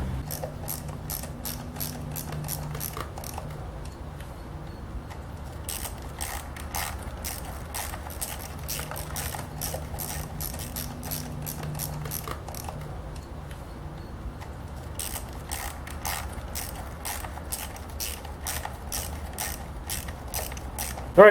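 Ratchet wrench tightening bolts in a cross pattern on a motorbike during clutch cable work, rapid close clicking in bursts separated by short pauses, with a faint low hum underneath.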